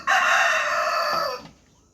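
A rooster crows loudly and close by in a single sustained call, rising and then trailing off, with a few faint clucks and quiet in the final half second; the bird is held on a farm in Honduras.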